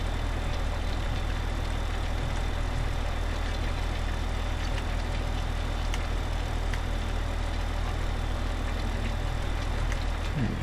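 Tractor engine running in the Farming Simulator 15 video game, a steady, continuous low droning hum at moderate level with no talk.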